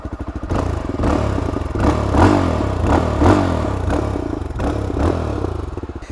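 A new 2026 Classic Legends scrambler motorcycle fires up after a brief cranking stutter and settles into a loud, close, thumping exhaust idle with a few gentle throttle swells and a light mechanical clatter.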